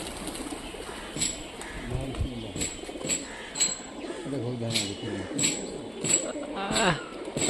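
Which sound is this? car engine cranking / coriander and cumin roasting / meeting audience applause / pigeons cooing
pigeons cooing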